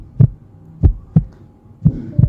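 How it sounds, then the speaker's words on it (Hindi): Pounding heartbeat sound effect with five deep, heavy thumps in an uneven double rhythm, loud and close, with nothing else heard. "उसका दिल जोर से धड़कने लगा।"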